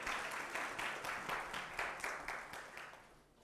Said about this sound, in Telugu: అందరూ చప్పట్లు కొట్టి ప్రభువుని కనపడదాం.